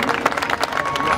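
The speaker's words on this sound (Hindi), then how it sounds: "एक बार साउंड वाले भैया के लिए भी जोरदार ताली आप लोग बजा दीजिए।" Dense clapping from a crowd at a Bhojpuri live stage show by Samar Singh, loud and sustained for the whole moment, with a tonal hum running beneath.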